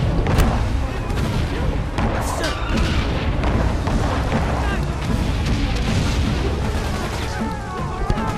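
Artillery shells bursting amid machine gun fire on a Great War battlefield in Valiant Hearts, a constant loud barrage of booms and crackling shots layered together with no pause.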